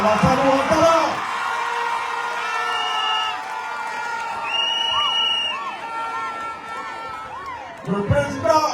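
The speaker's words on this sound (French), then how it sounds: "que je vous demande d'applaudir très fort à Alassane Ouattara." A crowd at an RHDP political campaign rally cheers and applauds, with a steady roar of voices, sustained tonal horns or whistles weaving through, and a louder burst near the end.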